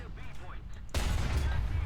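A heavy tank cannon shot from a T95 in War Thunder booms suddenly partway through, followed by a loud, sustained rumble, after a stretch of quieter engine and battlefield noise.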